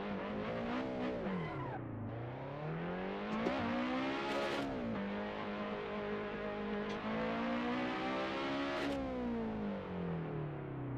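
A Lotus Elise SC08 engine in the Assetto Corsa racing game. It drones loud and steady, whining up and down as it revs and shifts through gears with no break, and no voices over it.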